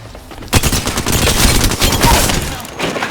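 Video game gunfire in loud rapid sustained bursts, opening with a sharp shot and then a dense barrage of firing that eases slightly toward the end, heard alone with no voices.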